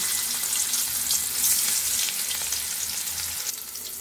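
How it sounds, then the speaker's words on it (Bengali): Rohu fish pieces frying in about one and a half teaspoons of oil in a wok, a steady bright sizzle that stays loud and even throughout, with no talking. "মাছগুলো আমরা দিয়ে দিয়েছি, এখন মাছগুলো ভালোভাবে ভেজে নেব"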